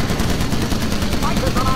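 Dense continuous machine-gun fire from a bomber turret in Call of Duty: United Offensive, a steady rattle of rapid shots under engine drone with a voice talking over it.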